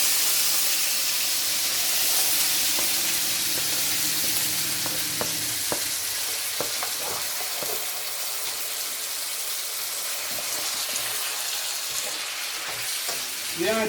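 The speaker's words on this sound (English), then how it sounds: "So I'm going to stir fry it in the wok." Cabbage stir-fried in a wok for a Spanish omelette: a steady loud sizzle and hiss of steam throughout, with scattered scraping clicks of stirring near the middle and end.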